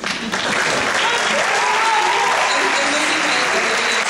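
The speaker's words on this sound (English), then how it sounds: "give him a huge round of applause and appreciation" A large audience at a farewell concert applauds a teacher, a dense, sustained clapping that stays loud and even throughout.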